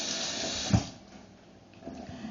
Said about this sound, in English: I'm just rinsing off my knife.